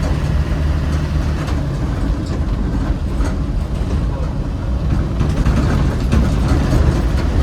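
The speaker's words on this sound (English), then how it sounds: "Absolutely great acceleration. Going uphill in fourth gear." A 1994 ex-MOD Land Rover Defender 110 with a 300Tdi diesel pulls uphill in fourth gear, giving a loud, dense, unbroken rumble that holds steady throughout.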